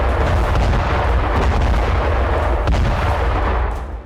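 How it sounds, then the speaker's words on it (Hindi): Gunfire during an attack in Jerusalem, a dense, continuous roar of loud shots and booms filling the whole span with no voices, fading slightly at the end. "दूसरी तरफ यरूशलेम में गोलीबारी शुरू हो गई।"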